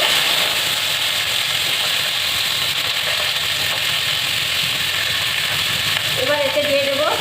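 Cut cauliflower and potatoes fry in hot mustard oil in a wok, giving a loud, steady, close sizzle that runs throughout. A faint voice rises near the end.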